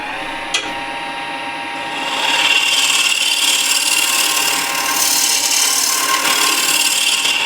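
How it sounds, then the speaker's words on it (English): A hand scraper works the side of a wooden box in a continuous rasping scrape, loud and close, starting after a tap and growing stronger partway through as the strokes continue. "This needs a little bit more attention with the scraper."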